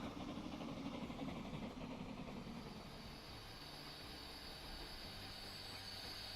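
A train rolls along in the Transport Fever 2 video game, a faint continuous rumble with wheel noise that holds steady throughout, with no voices over it.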